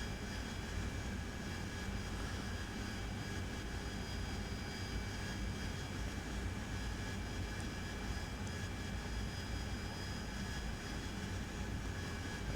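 F-14 Tomcat jet engines drone steadily from the cockpit in the DCS flight simulator, a constant broadband roar with a faint high whine and no change in level.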